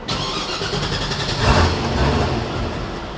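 An LS-swapped Hyundai Genesis with a speed density conversion idles nearby, a steady rumbling engine note with a slight swell in the middle as the idle tune is adjusted.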